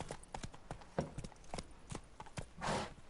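Hooves of the horse Roach clip-clopping in The Witcher 3, a quick steady rhythm of hollow clops, fairly close and quiet, ending with a brief snort or rustle.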